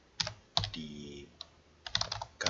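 Typing on a computer keyboard while coding JavaScript, a few separate bursts of key clacks with short pauses between them, close and fairly quiet, no talk.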